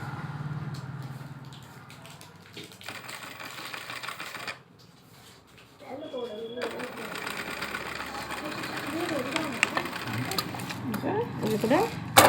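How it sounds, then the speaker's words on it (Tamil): A sewing machine stitches a frilled sleeve on a silk saree, its rapid mechanical chatter starting and stopping in bursts, close and loud, while a person talks over parts of it. "முடிச்சு போட்டுட்டு ஒரு தையல் மேலேயே தையல் போடுங்க."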